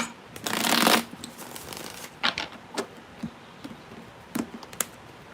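Tarot cards riffle-shuffled in one quick burst, followed by a few soft taps and flicks of cards being handled, close up.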